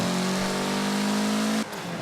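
A Mitsubishi car in Forza Horizon 4 revs with a rising engine note, then the throttle lifts and a short, soft turbo blow-off hiss follows as the engine drops away.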